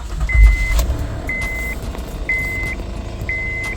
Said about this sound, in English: Now we're gonna start it back up and see how it starts up.